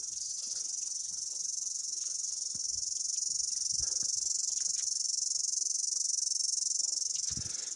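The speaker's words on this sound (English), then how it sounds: "Where do you find the volume control on a cicada?" Cicadas shrill loudly and without a break throughout, a dense, steady buzzing chorus that stays close and fills the air, with a few faint rustles and knocks beneath it.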